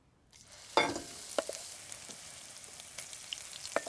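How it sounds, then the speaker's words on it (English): Food dropped into hot vegetable oil in a wok for a curry bursts into a sharp sizzle, then keeps frying steadily with occasional stirring clicks, close and unaccompanied by speech. "I'm just going to fry this until it softens"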